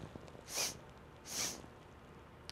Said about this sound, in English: We're going to have 3 sniffs going up.